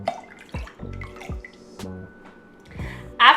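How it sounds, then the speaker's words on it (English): Cold water poured into a bowl for a strawberry wash, heard as a few short splashing, dripping bursts close by, with a brighter rush of liquid at the end. "So to our bowl, we're going to add 3 cups of cold water."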